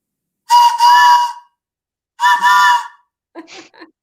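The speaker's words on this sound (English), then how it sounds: "I love this train whistle." A Walt Disney World train whistle sounds two long, loud, clear blasts, then a shorter, fainter broken toot, with silence between them.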